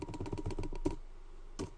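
Search term typed on a computer keyboard: a quick run of soft, close key clicks for most of a second, then a pause and one more isolated keystroke; quiet, no talking.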